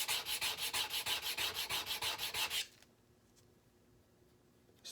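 A spokeshave iron is rubbed back and forth on a sharpening board in a steady rhythm of about a dozen quick, gritty strokes, close and clear, then it stops and leaves near silence.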